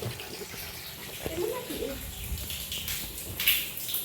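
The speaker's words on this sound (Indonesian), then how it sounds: "Ini keran shower nyala juga." Water runs steadily from a bathroom shower faucet after air trouble in a water-tank pipe, a soft continuous hiss with faint background noises.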